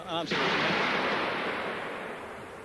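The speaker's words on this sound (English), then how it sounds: "A few fireworks, yeah." At a football stadium after an Athletic Bilbao v Liverpool match, fireworks go off as a sudden broad, booming burst that rumbles and fades slowly, following a brief snatch of voice.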